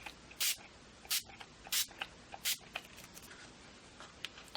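A hand spray bottle spritzes water onto a collage background in an altered-book junk journal, giving four sharp hissing bursts about half a second apart, each followed by softer rustling and small handling noises.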